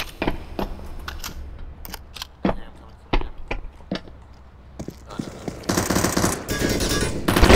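Rapid AK rifle bursts ring out in an online video game, sharp cracks in short clusters at first, then a longer sustained volley of automatic fire toward the end.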